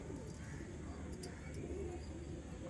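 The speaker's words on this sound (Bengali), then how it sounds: "এগুলো খুব ভালো পায়রা।" Pigeons kept for sale coo softly in the distance, faint low calls under a steady background hum.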